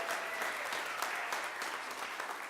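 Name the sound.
audience applause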